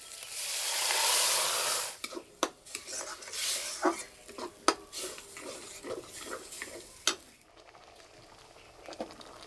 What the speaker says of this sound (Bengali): ডাল হাতায় করে এইভাবে একটু ঘুঁটে নেব।